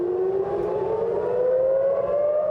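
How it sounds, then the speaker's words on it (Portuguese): An air raid siren sounds in central Israel during a missile alert, a loud, steady wail rising slowly in pitch and carrying continuously throughout with no voices. "sirenes aéreas foram acionadas no centro do país"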